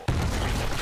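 A demolisher zombie explodes in 7 Days to Die during a horde night: one sudden loud, rumbling blast that fills the short moment with a sustained low roar.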